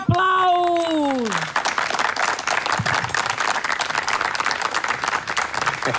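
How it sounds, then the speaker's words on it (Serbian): At a donor evening celebrating a first third-league win, an audience breaks into sustained applause after a voice rises in a drawn-out call, the dense clapping continuing steadily at moderate distance. "Molim jedan buran aplauz!"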